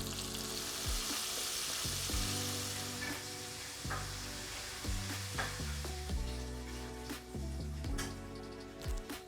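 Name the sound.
chicken wings deep-frying in oil at 350 degrees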